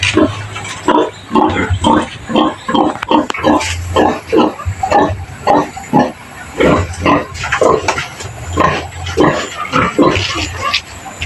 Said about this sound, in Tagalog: ito, inahin baboy.